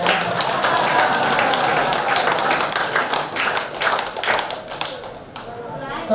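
A crowd of pilgrims at a devotional gathering in Nandgaon, Braj, clapping hands together in steady, dense applause that swells and then thins out toward the end.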